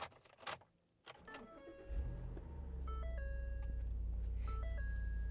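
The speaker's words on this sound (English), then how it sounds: "That is the truck dinging," A 2014 Ford F150 Raptor starts up, then its warning chime dings repeatedly in short tonal beeps over the steady low idle of the engine inside the cab.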